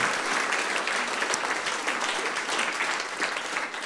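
Audience applause in a film museum foyer during a talk with a director, dense and sustained clapping at even loudness from start to finish, with no voices over it.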